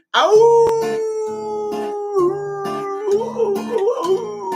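Several people imitate wolves with drawn-out, wavering vocal howls, loud and close, rising and falling over a few seconds with overlapping voices.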